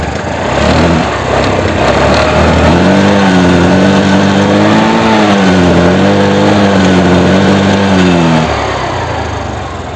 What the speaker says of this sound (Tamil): ஒரே உதவியில் ஸ்டார்ட் ஆயிடுச்சு.